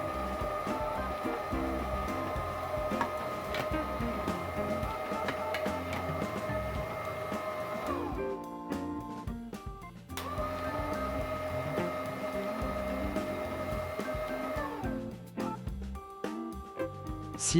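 A Lidl Silvercrest juice extractor runs slowly with a steady, fairly quiet motor whine and grinding hum, cutting out briefly twice before starting up again.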